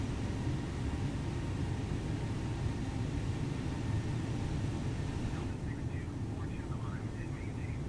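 An Airbus A320neo climbs after takeoff in Microsoft Flight Simulator, a steady broad engine roar and airflow rush that holds constant, with faint voices beneath.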